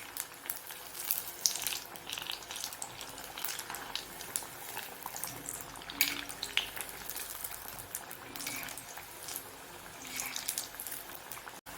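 Tapioca cutlet frying in hot oil after being flipped, giving a steady, fairly quiet crackling sizzle with small popping bursts throughout and no voices.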